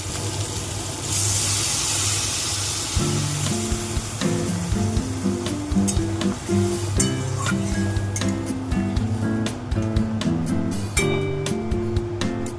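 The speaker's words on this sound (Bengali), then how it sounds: "এবার আমি জল দিয়ে দেবো।" Water poured into a hot pan of pumpkin with chili sets off a sudden loud hiss and sizzle that settles into steady bubbling frying, with occasional utensil clinks and soft music playing underneath.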